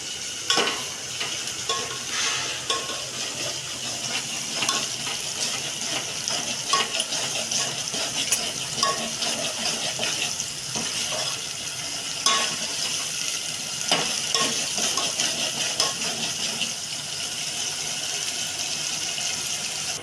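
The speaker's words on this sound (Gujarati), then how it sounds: "પછી હવે એમાં મગ અને વટાણાનો રગડો નાખો. થોડીક વાર આને 5 મિનિટ જેવું ચડવા દેવું પડે" Mung bean and green pea ragda simmers in a pan while being stirred, giving a long, continuous soft sizzle and bubbling broken by intermittent scrapes and clinks of the spoon, close by and with no one talking.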